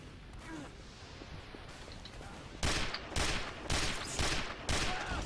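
Gunfire from the video game Team Fortress 2 comes in a rapid series of about six loud, evenly spaced shots. The shots follow a quieter stretch of game ambience and stand alone without talk.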